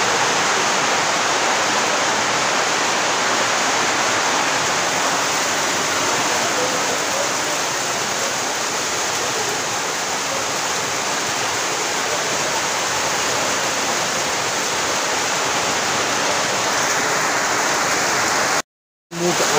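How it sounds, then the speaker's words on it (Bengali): Heavy rain pours down steadily outside a homestay room in the Kalimpong hills, a dense, loud, unbroken hiss lasting nearly twenty seconds with a brief dropout near the end and no talking. "মুষলধারে বৃষ্টির আওয়াজ নিশ্চয়ই শোনা যাচ্ছে।"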